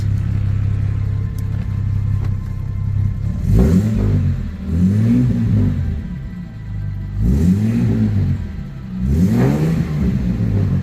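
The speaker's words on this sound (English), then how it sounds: "Good strong exhaust note." A rebuilt 1966 Jaguar E-Type Series 1 engine revs repeatedly from idle, with deep throaty exhaust swells rising and falling in several close bursts, no talking.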